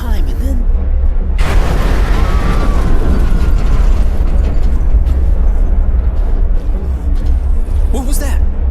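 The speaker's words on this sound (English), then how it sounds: "That wasn't an explosion. Only a fluid overload can make that kind of noise." A deep, rumbling blast from a fluid overload in the game Mars: War Logs, heavy low boom rolling on for several seconds with a sustained roar and debris-like crackle, loud and close, with no talking over it.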